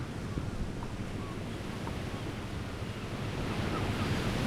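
Sea waves and wind on the coast near Thorsminde, Denmark, seen from the top of sand dunes: a continuous broadband roar of surf and gusting wind buffeting the microphone, with no voices.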